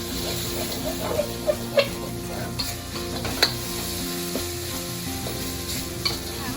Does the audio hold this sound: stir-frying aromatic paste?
yes